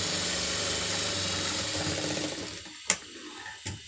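A sewing machine stitches a neck binding on a garment, giving a steady close mechanical whir and rattle for a few seconds before stopping, followed by two sharp clicks.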